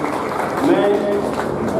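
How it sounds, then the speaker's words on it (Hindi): An audience claps at a Swaraj Tractors farmers' conference in Bundi, giving a dense, steady wash of applause that stays loud throughout and mixes with a speaker's voice. "एक बार जोरदार ताली बजाकर"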